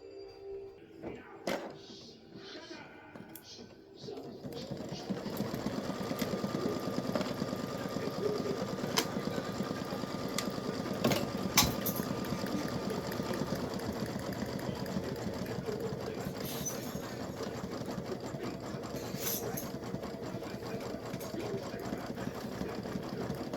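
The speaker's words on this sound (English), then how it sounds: "Now I need to change to blue for color stop 9, which is going to stitch bless, the word bless." An embroidery machine stitches the word "bless" in blue satin-fill thread with a steady, fast rhythmic mechanical chatter, close and continuous after a few brief clicks and handling noises at the start.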